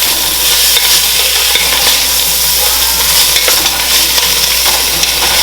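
Lobster shells and their juice are stirred in a pot, giving a loud dense sizzle with scraping stir strokes throughout, close up and without voices.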